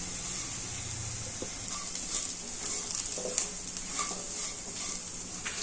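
Two spoons of sesame seeds frying in a dry, water-free pan, giving a steady close sizzle with occasional stirring scrapes and light clinks throughout, no voices.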